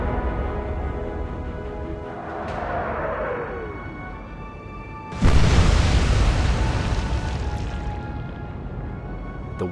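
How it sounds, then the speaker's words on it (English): Naval gunfire from the battleship Warspite at sea: a descending whistle fades, then a sudden heavy boom bursts in loudly and rolls on in a long, rumbling decay. "The Warspite continued firing into the smoke, and was successful, hitting the cruiser for 3 consecutive hits."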